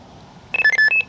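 A Fox MK2 illuminated swinger fishing bite alarm beeps in a quick burst of sharp, loud electronic tones, several short bleeps in rapid succession after a moment of quiet.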